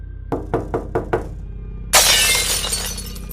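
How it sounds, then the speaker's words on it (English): A sudden loud bang on a glass window, heard as five sharp knocks in quick succession, followed by a kitchen window completely shattering in a bright, sustained crash of breaking glass that slowly trails off. "There was this quick and sudden loud bang on the glass, followed by a window in the kitchen completely shattering."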